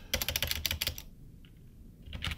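Quick bursts of keystrokes on a computer keyboard as a terminal install command is typed in Kali Linux, a clicking run, a pause, then more keys, close and clear.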